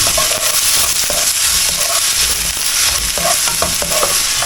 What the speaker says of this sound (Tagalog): Binigisa ko lang yung bawang at sibuyas.